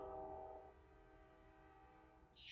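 An angry-sounding train horn from a sound effect blares loudly with a steady, harmonic tone. It fades slightly after the first moments, then holds at an even level for the rest of the clip.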